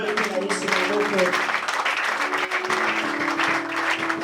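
Church congregation applauding for Jesus, dense steady clapping mixed with voices and sustained tones throughout, fairly loud and continuous.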